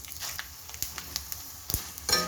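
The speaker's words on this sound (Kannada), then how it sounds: "ಆ ಎಣ್ಣೆ ಕಾದ ನಂತರ ಚಕ್ಕೆ ಲವಂಗ ಸೋಂಪು ಧನಿಯಾ ಇದೆಲ್ಲ ಹಾಕ್ಕೊಂಡು ರೋಸ್ಟ್ ಮಾಡ್ಕೊಳ್ಳಿ" Whole cinnamon, cloves, fennel and coriander seeds roast in hot oil for rice kichidi, giving a soft, steady sizzle broken by a few light clicks and stirring taps.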